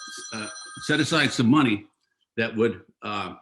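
A telephone rings briefly in an office during an election interview with a mayoral candidate, its electronic tone heard near the start and partly under someone speaking.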